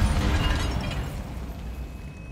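A fire spell bursts in the game Hogwarts Legacy, a broad, rumbling explosion that starts loud and thick in the low end, then slowly fades into a washing roar that holds for the couple of seconds that follow.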